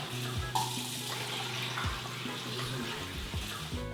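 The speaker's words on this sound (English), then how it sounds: "by washing the lentils" Red lentils washed by hand in water, with a steady watery swish and splash filling the whole stretch under faint background music.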